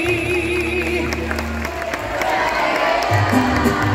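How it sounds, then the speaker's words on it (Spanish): Audience in a school auditorium cheers and applauds after a youth mariachi performance, a steady loud wash of clapping, whoops and crowd noise lasting throughout. "Y un aplauso bonito para nuestras bailarinas y señores."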